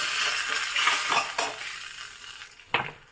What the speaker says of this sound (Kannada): ಈಗೊಂದು ಒಗ್ಗರಣೆ ಹಾಕ್ಬಿಡ್ತಾ ಇದ್ದೀನಿ